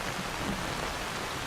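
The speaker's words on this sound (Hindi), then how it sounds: "बाहर निकलते ही ओले पड़ने शुरू हो गए" Hail pelting down steadily outdoors at dusk in a storm, a dense, continuous hiss of ice striking surfaces with no gaps, fairly loud and close, no voices.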